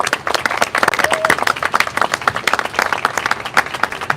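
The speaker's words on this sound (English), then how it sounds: "So let's give them a round of applause." An audience claps at a mural unveiling at the Buffalo Convention Center, crisp individual claps standing out within a moderately sized burst of applause, close and lively, with a brief whistle-like tone partway through.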